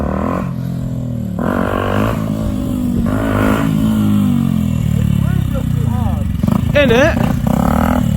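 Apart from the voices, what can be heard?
Yamaha WR125 motorcycle revving during bounce-up wheelie attempt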